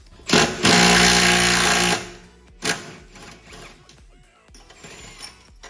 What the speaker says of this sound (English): once the riv nut is in its receiving hole, you're gonna use an impact and basically do this.